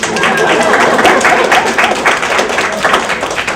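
An audience at a workplace seminar claps steadily and densely, a close, even wash of many hands that holds at the same loud level throughout, with no talk over it.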